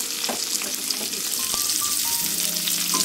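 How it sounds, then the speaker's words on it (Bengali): Chopped onion and cumin fry in oil in a Bengali kitchen with a constant near sizzle, light stirring knocks, and a faint tonal beep in the background, no talk. "জিরেটা অল্প একটু ভাজা হলে দিয়ে দেব কেটে রাখা একটা গোটা পেঁয়াজ"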